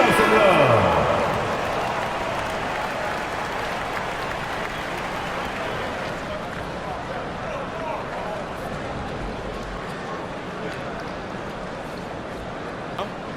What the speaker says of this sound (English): Fans, please give a big round of applause.